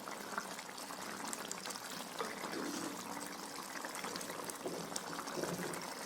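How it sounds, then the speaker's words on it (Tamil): A pot of sardine fish curry with tamarind boils steadily, giving an even, soft bubbling hiss that runs unbroken throughout, faint and without speech. "பாருங்கள், நல்லா புளி ஊற்றினதுக்கப்புறம் நல்லா கொதிச்சிட்ருக்குது."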